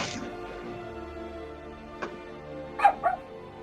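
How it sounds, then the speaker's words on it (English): A dog in an office gives a few short yips and barks, close and moderately loud, with a soft whimper and low room hum between them. "Barks."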